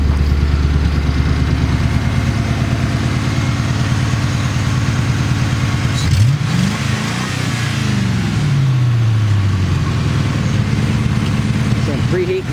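An old car engine idles steadily under the bonnet with its electric cooling fan switched on, a constant low hum and whir running throughout, with a brief dip and pitch sweep midway and a person talking over it.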